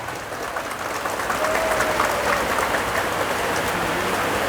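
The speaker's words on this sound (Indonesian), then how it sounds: "Tepuk tangan untuk guru TPA." Audience applause for TPA teachers at an Islamic talk, a steady, rain-like patter of many hands clapping that swells slightly and holds, with no talking over it.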